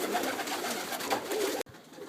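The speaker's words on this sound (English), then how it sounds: "here's all my birds" Caged pigeons kept by a breeder coo softly and repeatedly in a dense, low murmur, with a brief cut to near-silence toward the end.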